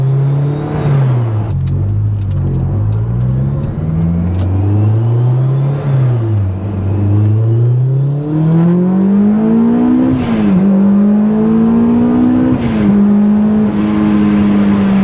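A supercharged Honda S2000 engine drones loudly through on-throttle pulls, its pitch climbing steadily in several long sweeps with brief dips at the shifts, close and continuous with no talking.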